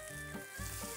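Chicken pieces sizzle and crackle steadily in a pan as they fry into black pepper sauce, a continuous close hiss with no talking.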